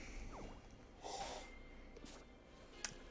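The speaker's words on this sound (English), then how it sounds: "my dog like stuck her nose to her hollow bone and just blew really hard into it against a wall" A dog blows hard into a hollow bone pressed against a wall, giving a short, close, breathy snort-like rush of air, a brief hollow whoosh and a faint click, quiet and alone.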